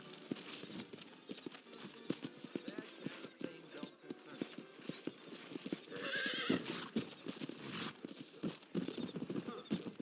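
Horse hooves clip-clop in a steady rhythm with a loud neigh partway through, set in the Red Dead Redemption video game, with a character voice talking over the hoofbeats.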